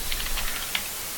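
A short, close burst of rapid clicks from a computer keyboard being typed on, with a steady hiss underneath.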